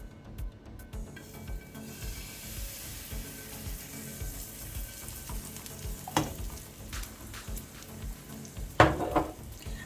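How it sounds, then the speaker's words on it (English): Butter sizzles and fries steadily in an already hot pan for a pancake batter, a continuous crackling hiss with occasional sharper spits and a brief stirring scrape near the end. "Let that fry for a few minutes"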